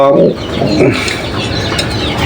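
Nesting pigeon pairs sitting on eggs coo softly close by, low throaty murmurs with a faint rustle of movement, no voices.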